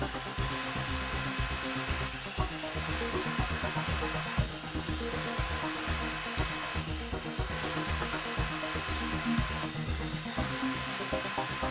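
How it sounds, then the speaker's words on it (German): A Kaindl KSS sharpening machine grinds the tooth backs of a Kaindl multi saw blade one tooth at a time: a loud, steady abrasive grinding that swells in brief bursts about every two seconds, with no voices. "Schalten Sie die Maschine ein und stellen sie an der Feineinstellung zu. Schärfen Sie den Zahnrücken Zahn für Zahn"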